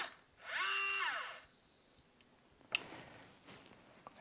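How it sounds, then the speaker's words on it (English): Keyless door lock sounds a single long, steady electronic beep during its reset, about a second long, close and clear, followed by a few faint mechanical clicks. "until you hear a long beep."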